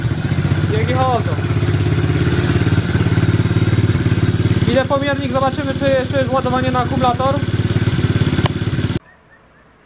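A 110/125 cc quad's engine idles loudly nearby with a steady, clattery throb while someone speaks over it, then the engine cuts off abruptly near the end, leaving quiet.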